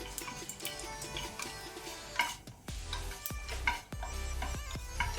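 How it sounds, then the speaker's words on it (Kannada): Cardamom, a bay leaf and cumin sizzle in hot oil over a low flame for lobia masala, with a soft steady crackle broken by sharp clicks and scrapes of a spoon stirring in the pan. "ಎಣ್ಣೆ ಬಿಸಿಯಾದ ನಂತರ 4 ಏಲಕ್ಕಿ ಕಾಡಮಮ್ಮ, 1 ಬೇ ಲೀಫ್ ಪುಲಾವ್ ಎಲೆ ಹಾಕೊಂಡೆ, ಅರ್ಧ ಟೀ ಸ್ಪೂನ್ ಅಷ್ಟು ಜೀರಿಗೆ"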